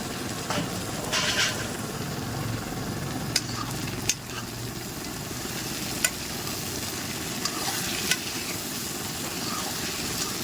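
Tomatoes and meat frying together in a pan, a soft continuous sizzle with occasional sharp clicks and scrapes of a utensil stirring, fairly quiet and steady throughout.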